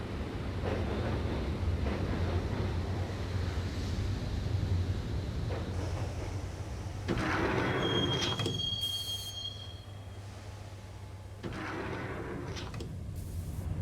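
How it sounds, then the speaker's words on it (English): Subway train riding on rails in the video game Max Payne, a steady low rumble of wheels with bursts of high metallic squealing partway through and near the end. "the train doors had already shut behind me, and I was in for the ride"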